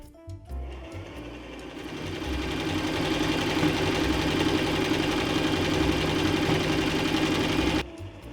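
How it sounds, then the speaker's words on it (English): A sewing machine stitches bag lining in one steady, continuous run at close range, its fast mechanical whir holding even throughout before cutting off abruptly near the end. "Sew the bag lining together the same way."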